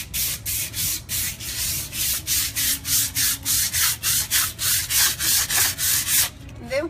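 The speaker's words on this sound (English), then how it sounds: "I always hold my sandpaper like this" Sandpaper is rubbed by hand back and forth over a textured, metallic-painted countertop in about twenty even, rhythmic strokes, each a close, gritty scrape, with no talking.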